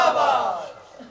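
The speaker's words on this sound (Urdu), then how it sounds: "تسی عاشقان دے نعرے سن دے رہے ہو" A large crowd shouts a religious slogan in unison at a devotional gathering, a single loud collective cry that swells briefly and fades away.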